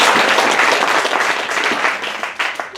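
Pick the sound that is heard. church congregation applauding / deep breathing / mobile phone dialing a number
church congregation applauding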